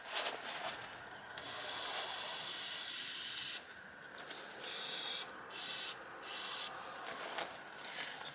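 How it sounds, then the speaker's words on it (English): Penetrant sprays from an aerosol can onto the rusty underside of a Ford Explorer 4.0 V6 SOHC, in several close, loud hissing bursts of varying length separated by short pauses. "put some more penetrant on it"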